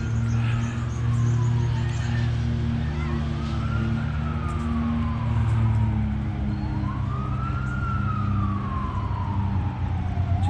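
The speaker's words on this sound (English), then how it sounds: "There's a lot of sirens today" Emergency vehicle sirens wail in long rising and falling sweeps, moderately distant, over a steady low traffic rumble near a duck pond, with no talking.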